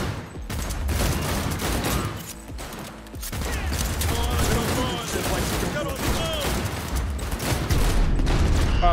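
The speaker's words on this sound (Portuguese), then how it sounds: "Um tiroteio, e nem pra levar uma bala nas costas." A dense, loud fusillade of rapid gunfire and impacts from a shootout in the video game Cyberpunk 2077 plays continuously, with some game voices mixed underneath.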